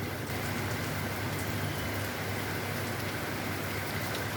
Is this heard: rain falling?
yes